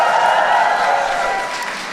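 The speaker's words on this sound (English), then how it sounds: "Aisha a big round of applause?" Crowd applause at an Eid al-Fitr reception, a dense steady wash of clapping from many hands that holds loud for two seconds and eases slightly toward the end.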